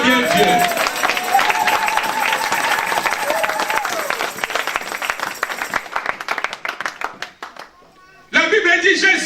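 A church congregation claps to acclaim God, with dense, lively applause and voices mixed in. The clapping thins out and briefly drops away near the end before bursting back.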